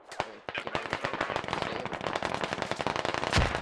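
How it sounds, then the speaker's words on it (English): Rapid bursts of suppressed M4 rifle fire in a military shooter video game, many sharp cracks in quick irregular succession, dense and continuous, with a louder thump near the end. "You can hear the suppressed M4s firing"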